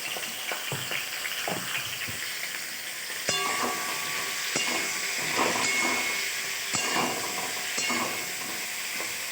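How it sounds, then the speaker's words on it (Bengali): Steady hissing sizzle of spinach and vegetables with salt and turmeric frying in a pan for chorchori, with occasional scraping stirs and clatters over the continuous crackle, close and fairly loud, no talking. "এবার সবজিটা ভাজা হয়ে যাক।"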